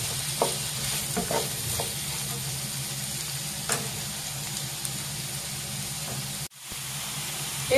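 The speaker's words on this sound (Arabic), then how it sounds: "غادي نخليوها تقلى تيتبدل لينا اللون ديالها حتى كتولي شفافة" Ingredients seasoned with salt and pepper fry in a pan with a steady sizzle and hiss, occasionally stirred, with a brief break near the end before the sizzle returns, no one talking.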